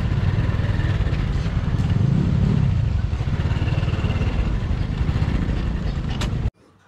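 A Honda Wave Alpha 110 motorcycle with about 100k on the odometer, ridden from Manila toward Tagaytay, gives off a steady, loud engine drone and road rumble throughout, with no voices, before it cuts off abruptly near the end.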